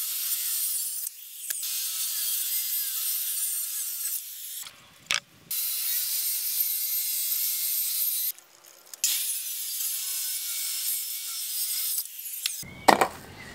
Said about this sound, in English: I am now ready to cut this tenon